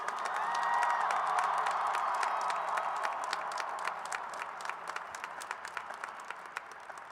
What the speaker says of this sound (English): Give yourselves one more round of applause, okay?